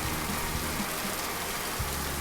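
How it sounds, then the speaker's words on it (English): Steady storm rain hisses across the whole clip, a dense wash of falling drops with a few faint low thumps underneath. "The rain came back with a vengeance."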